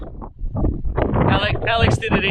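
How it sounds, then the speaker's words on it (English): Gusty wind buffeting a microphone on the windy summit of Mt Wudinna in Australia, rumbling close and loud beneath a person talking. "It's a bit windy, sorry about the audio"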